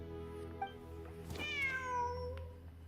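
A cat meows in the video game Genshin Impact, a single drawn-out, falling meow at close range over a quiet ambient background, preceded by a soft short chirp.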